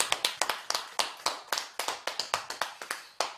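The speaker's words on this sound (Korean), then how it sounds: "박수 한번 주실까요?" Audience clapping at a Buddhist ceremony, a series of sharp, fairly close handclaps in an uneven rhythm, heard alone without talk.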